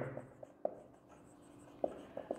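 Chalk writing on a board during a maths lesson, faint scattered taps and scratches as strokes land, quiet and close with no speech.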